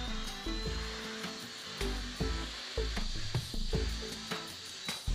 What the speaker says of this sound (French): Il gratte plus grossièrement qu'un disque à lamelles, mais il mord beaucoup plus fort.